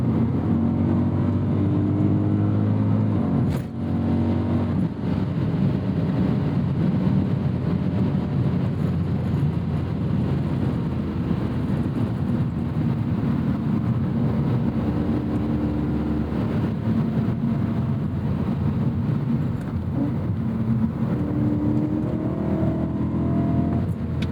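A 2010 BMW M3 E90 with its V8 engine, a loud continuous drone of engine and road noise with rising and falling revs as it downshifts, heard from inside the car with no talking.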